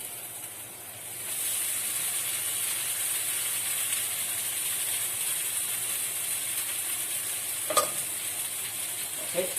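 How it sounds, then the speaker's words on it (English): Pad thai noodles sizzle steadily in a hot pan, a continuous frying hiss with a soft clatter of stirring near the end, close and fairly loud with no talking. "You can hear the sizzling sound. That means it's heating up."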